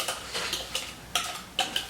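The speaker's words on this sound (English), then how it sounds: "Do you want me to get you a spatula because it'll be able to scrape the sides better?" A spatula scrapes around the sides of a mixing bowl of pie dough, giving a few short, close, scratchy strokes in an irregular rhythm.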